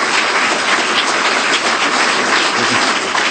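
Audience clapping at a city council meeting on a funding request for the Palouse Ice Rink, a dense, steady wash of many hands close up and loud throughout, with no voices heard over it.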